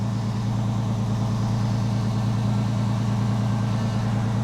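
A freshly rebuilt Porsche 911 engine idles steadily and loud up close, a continuous low throbbing drone that holds even throughout with no voices over it.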